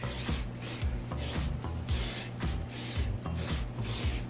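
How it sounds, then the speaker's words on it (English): Hairspray misted over short hair in a steady string of close, hissing pulses roughly every half second, with soft rubbing and clicking underneath and no talking. "hairspray my hair up like this so it kind of stays in that position"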